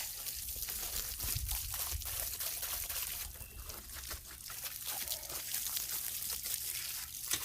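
Water from a hose splashes and trickles steadily over a Troy-Bilt 21-inch walk-behind lawn mower during a quick rinse, a continuous close hiss and spatter with no voices.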